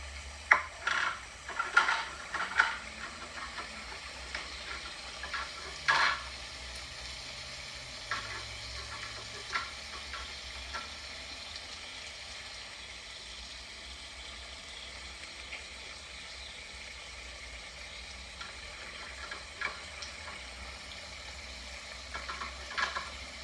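Onions sizzle steadily as they fry and get stirred in a pan for Moghlai pulao, a soft, even hiss close by with a few light stirring knocks early on and no talking.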